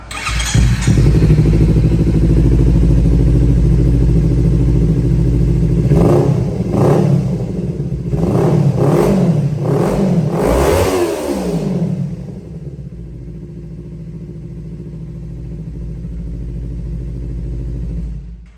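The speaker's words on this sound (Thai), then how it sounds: "เดี๋ยวมาฟังเสียงท่อกันนะครับ" A 2018 Kawasaki Z300 motorcycle idles with a loud, throaty exhaust rumble, then revs sharply several times in quick bursts before settling back to a steady idle.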